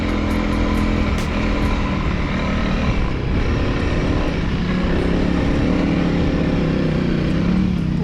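Honda CRF300L motorcycle engine running steadily during a rally ride, a loud continuous drone with rough low rumble and wind noise throughout, no speech.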